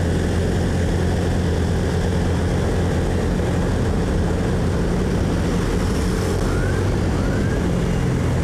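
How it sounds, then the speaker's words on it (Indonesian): Honda New Genio scooter pulling away hard at full throttle from about 40 km/h, a loud steady engine drone with constant road and wind roar filling the ride, no voices. "Nah dari 40 saya akan coba langsung gaspol."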